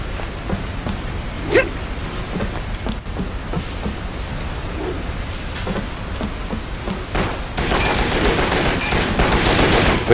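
Rapid video game gunfire from the shooter WET, a steady stream of bursts with a few sharper single shots, loud throughout and swelling into a denser, noisier barrage near the end, with no talk over it.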